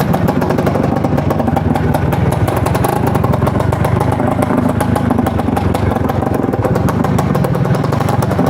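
An Izh Planeta Sport motorcycle rides in first gear on a winter street, its single engine putting out a loud, continuous, rapidly pulsing chug with clattery mechanical noise throughout.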